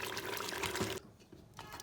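Water is poured into a cooking pot of beef korma, a steady splashing pour that stops abruptly partway, followed by quieter trickling and faint kitchen sounds.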